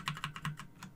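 Computer keyboard keys are typed quickly, about five crisp clicks in a second, close and fairly quiet, with no voices.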